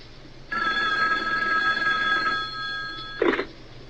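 A hotline telephone in a Batman and Robin radio drama gives one long, steady bell ring of about three seconds over a low hum, then a short knock as the ring stops.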